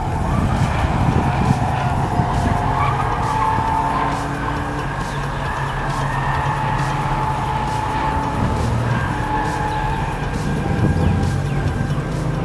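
A Mercedes AMG engine revs and drones continuously on a racetrack while tires squeal and skid through a long corner with slight understeer, the pitch rising and falling as it accelerates.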